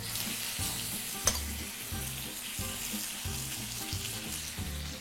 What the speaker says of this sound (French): Donc on a un beurre bien moussant. On peut mettre les poitrines directement dedans.